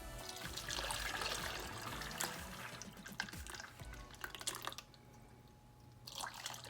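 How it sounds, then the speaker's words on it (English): Jamaican sea moss drink pours steadily into a blender with a wet, splashing trickle, then thins to a few drips and quieter gurgles near the end. "So I'm just gonna pour this in my blender."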